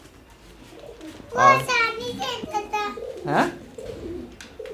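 Fancy Pakistani pigeons cooing near a person, with soft warbling calls over a few seconds mixed with a child's and an adult's speech in a domestic setting.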